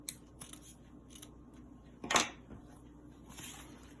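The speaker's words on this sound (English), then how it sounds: "Go ahead and trim off the excess." Scissors trimming excess spandex fabric, a few faint close snips followed by one louder crisp cut, then softer handling noise.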